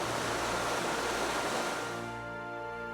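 A fast-moving river running between a garrison and a town rushes as a broad, steady roar of water that thins toward the end as a faint tonal hum emerges, with no voices present.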